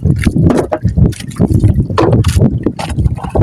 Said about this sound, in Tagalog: Yun na sasakyan natin yung bangka niya, kasi yun mabilis-bilis ng kaunti.